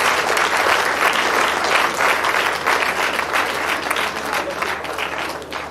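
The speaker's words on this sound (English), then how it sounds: "Can we give a round of applause for the Vice-Chancellor?" An audience at a Nigerian Society of Engineers graduate induction ceremony gives the Vice-Chancellor loud, sustained applause, many hands clapping evenly for several seconds before it begins to thin.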